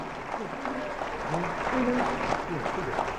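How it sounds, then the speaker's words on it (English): An audience applauds at a town hall meeting as a speaker is welcomed, steady clapping under and around a speaking voice and crowd chatter throughout. "put your hands together for Philadelphia's own"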